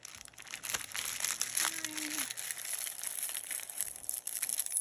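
Crinkling of plastic packaging around a pack of natural cardstock Christmas gift tags tied with jute, with scattered close rustles and crackles and a brief faint whine partway through.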